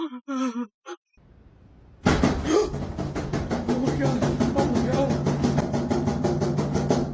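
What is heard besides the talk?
door banging on its hinges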